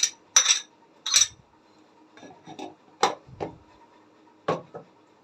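A spoon stirs half a kilo of okra and half a kilo of lentils in a cooking pot with garlic and red pepper, giving a handful of sharp, irregular metallic clinks and scrapes against the pot over a quiet background.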